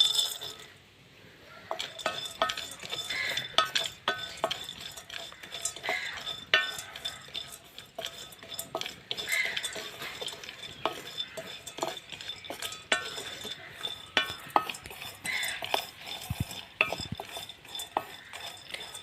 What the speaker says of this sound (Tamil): அப்போ எடுத்து வச்ச நட்ஸை வறுத்தெடுக்க போகிறோம்.